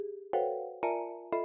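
Synthesizer playing unprocessed MIDI notes from a techno setup, three bright, bell-like tones struck in even succession, each ringing briefly and fairly quietly, with no talking.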